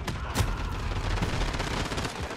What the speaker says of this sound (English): Just keep going, guns blazing, shooting everywhere.